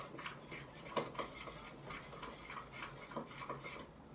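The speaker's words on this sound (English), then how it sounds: "I'm going to use a spoon because then I'm going to spoon it onto the pork chop." A metal spoon clinks and scrapes against a dish while scooping lemon garlic sauce for a pork chop, giving a run of soft, close taps at an uneven pace.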